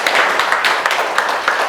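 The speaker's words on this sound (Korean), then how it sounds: "오늘 강의해 주신 박경민 교수님 큰 박수 한번" An audience applauds a professor at the end of a lecture, a dense, steady burst of many hands clapping, loud and close, with no talk over it.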